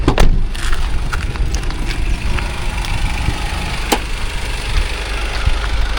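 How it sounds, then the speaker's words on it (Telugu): A 2019 Honda City's 1500cc four-cylinder diesel engine idles with its bay open, giving a steady, loud, even clatter with a few sharp clicks and no talking. "ఇది 1500cc 4 cylinder engine, diesel engine"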